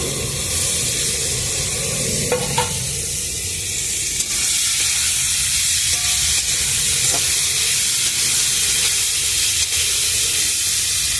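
Chopped onion and tomato fry in oil in a pan over a wood fire on a rooftop garden, giving a loud, continuous close-up sizzle with a few faint clicks and scrapes.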